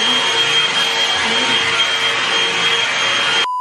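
A handheld hair dryer blows steadily on wet hair being brushed, a loud continuous close whoosh with a faint whine that runs almost the whole time and then cuts off abruptly at the end.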